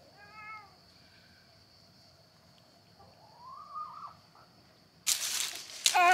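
A cat gives a few soft meows in a quiet setting, with a brief sharp rustle or clatter near the end.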